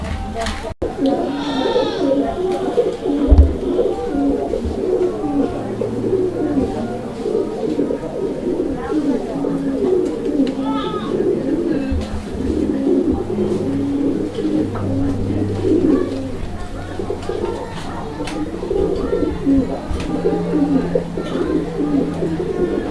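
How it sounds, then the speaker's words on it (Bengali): Rajshahi Giribaz pigeons coo steadily and close, their low throaty calls layered over one another throughout, with someone talking over them. "আচ্ছা ভাই এটা কি কবুতর এটি হচ্ছে রাজশাহী গিরিবাস"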